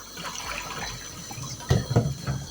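Cold running water splashes steadily from a tap over a boiled egg, with a few louder gurgling bursts near the end as the stream hits something.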